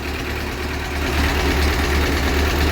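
A tractor engine starts instantly and idles steadily with a low, rumbling, slightly knocking chug, close and continuous throughout.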